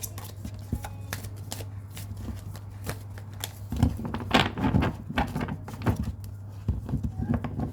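Tarot deck being shuffled by hand, with a run of soft papery riffles and taps, a busier burst of card sounds midway, close and fairly quiet over a low background hum.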